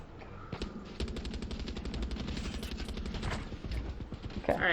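Rapid automatic gunfire from a Far Cry 6 video game, a dense stream of loud close shots with a brief gap early on, continuing steadily to the end.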